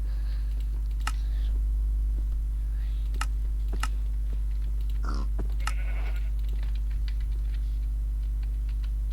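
Sheep bleat a few times at moderate volume in Minecraft, over a steady low hum and scattered clicking, with no one talking.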